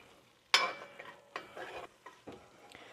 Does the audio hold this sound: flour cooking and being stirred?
yes